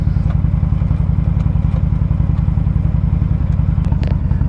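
A 2007 Honda VTX1300 Champion trike's V-twin engine idles close by in a loud, steady low rumble with a rapid even pulse, light clatter riding on top.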